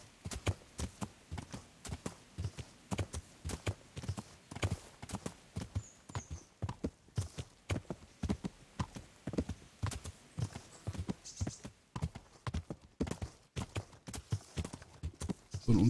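A horse's hooves clip-clop at a steady, even walking pace in the medieval video game Kingdom Come: Deliverance. The hoofbeats are faint but carry on continuously, with no talking over them.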